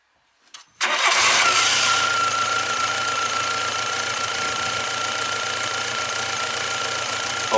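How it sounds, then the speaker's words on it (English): A car engine cranks briefly and then catches, settling into a loud, steady idle with a continuous low hum that holds for several seconds, no voices over it. "normally when I start this my engine"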